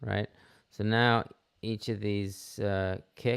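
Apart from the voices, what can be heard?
No everyday noise stands out behind the speech.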